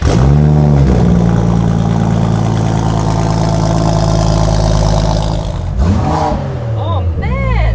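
A concept car's engine revs hard through its exhaust, a loud sustained roar with rising and falling pitch that drops away near the end, followed by short blips, with excited voices over it.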